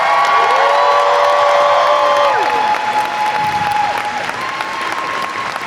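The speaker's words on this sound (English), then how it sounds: "let's have a big round of applause for our Masquerade entrants and winners." A large audience claps loudly and steadily at a cosplay masquerade at MCM Comic Con London, with some cheering and whoops mixed in. The sound is a dense, sustained wash of applause that eases slightly toward the end.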